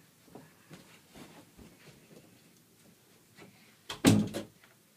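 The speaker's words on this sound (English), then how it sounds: "I need to shut the door for a moment." A door shut indoors in a home, one solid thud near the end after a stretch of quiet rustling and faint movement.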